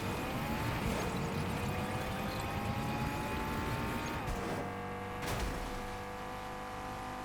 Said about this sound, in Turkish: Arabaya atladık.